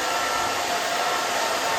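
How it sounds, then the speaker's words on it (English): A blow dryer drives air through a vented brush while drying hair, producing a loud, steady, close whoosh that holds unchanged throughout with no talking. "the blow dryer can go through a brush and dry it as you are moving it"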